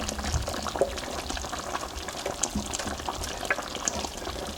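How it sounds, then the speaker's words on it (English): Water pours into a blender in a steady close bubbling, gurgling stream with small splashes and clinks throughout, with no talking. "Just gonna put more water in the blender and just rinse it in."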